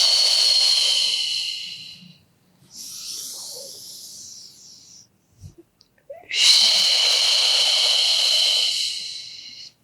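Deep, forceful breaths during a pilates stretching routine for back pain: a long loud exhale, a softer one after a pause, then another long sustained exhale, close to the microphone.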